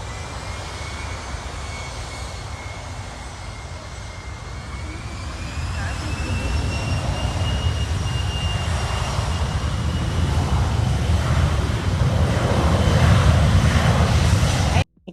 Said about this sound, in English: that moment when the engines start roaring is such a thrill for me